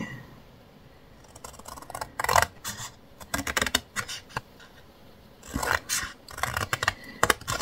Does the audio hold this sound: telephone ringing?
no